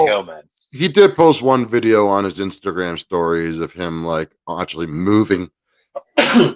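A single loud, sharp sneeze bursts out right at the end, following a stretch of steady conversational talk from a nearby speaker.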